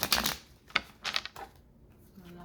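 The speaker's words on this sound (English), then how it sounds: "I'm not shuffling well either." Tarot cards shuffled by hand in a few quick riffling bursts, close and fairly quiet, with brief pauses between them.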